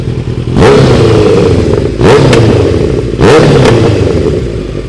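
Kawasaki Z900 motorcycle exhaust with a long slip-on can revved three times in quick succession, each blip rising to a loud roar then settling back to a rumbling idle, close up.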